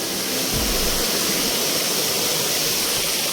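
Rainwater pours down over a farm like a small waterfall, a steady, loud, unbroken rush of water that fills the whole stretch with no voices.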